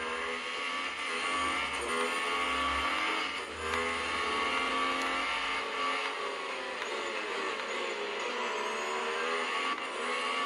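Racing car engine in the Asphalt 8 video game, a steady high-pitched whine that rises and falls slightly in pitch, loud and continuous for the full stretch with no talking.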